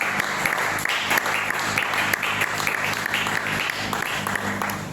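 A church congregation applauds steadily and fairly loudly at a French-language service, the dense clapping continuing without a break for the whole stretch.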